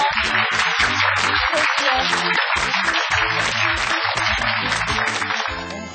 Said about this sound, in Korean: 최수영 변호사 큰 박수로 맞이해 주시죠